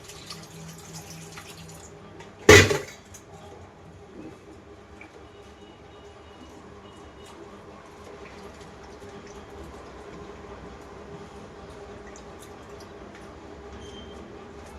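Cold water runs steadily from a tap while something is washed in it, making a continuous low splashing hiss. A sharp, loud clatter occurs near the start.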